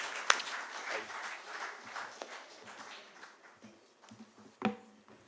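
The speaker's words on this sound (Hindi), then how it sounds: "एक बार जोरदार तालियां नहीं हुई" Scattered, fairly faint audience clapping at a Hindi book launch event, a few sharp louder claps standing out against sparse patters and room noise rather than a full ovation.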